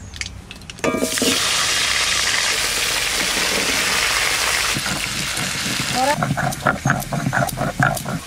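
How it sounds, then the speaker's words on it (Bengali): Potatoes fry in hot oil for a magur fish curry, a steady broadband sizzle that swells loudly after a quiet start, with stirring clatter and a voice talking over it near the end. "তো ওই তেলের মধ্যে আলু ভাজা করে নেবো"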